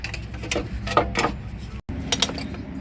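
Bolts are tightened on a 2016 Nissan wheel hub assembly, producing quick mechanical ratcheting clicks in short close bursts, with a momentary gap partway through.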